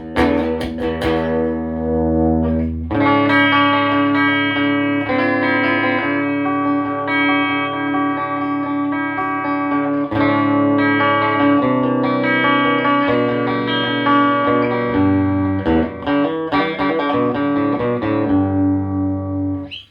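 A vintage Gibson Les Paul Junior electric guitar plays clean, dry sustained chords and single notes through a Marshall amplifier, bright and ringing, loud and up close with no talking.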